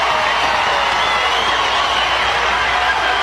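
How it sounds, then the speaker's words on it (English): A roaring stadium crowd at a women's college softball game between Oklahoma and UCLA at the Women's College World Series, steady and loud throughout with no breaks, a dense wash of cheering. "Listen to this crowd."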